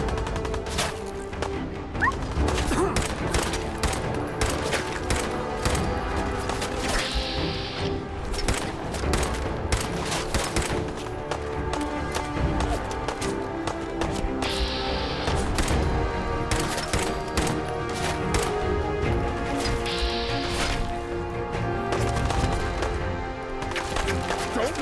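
Video game gunfire and a grenade blast in Fallout 4, with dense rapid bursts of shots and sharp crashes filling the whole stretch, loud and close, with a voice talking now and then.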